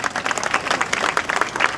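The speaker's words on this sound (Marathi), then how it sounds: "होऊन जा टाळ्या जोरात" Audience applause at a BJP political rally in Maharashtra, a dense burst of clapping from a large crowd that holds steady and loud for the whole stretch with no talk over it.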